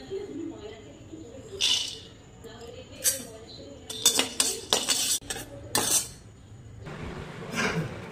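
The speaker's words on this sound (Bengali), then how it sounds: "এবারে কয়েকটা বাদাম ভেজে নেব।" Peanuts dry-roasted in an earthen kathkhola pan, with scattered scraping and clinking stirring strokes that come in irregular bursts over a low background hum, close and moderately loud.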